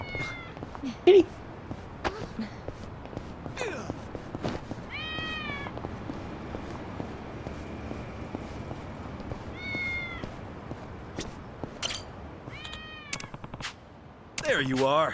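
A cat in the Yakuza: Like a Dragon video game meows several times in short, rising-and-falling cries spread across the stretch, against quiet background ambience, with a person's voice speaking now and then.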